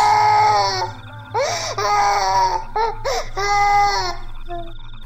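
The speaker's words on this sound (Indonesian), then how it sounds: "terdengar tangisan anak dengan suara serak parau yang sesekali menjerit histeris" A child cries in a hoarse, strained voice with repeated wailing bursts, rising at times into hysterical screams, close and loud with brief gaps between sobs.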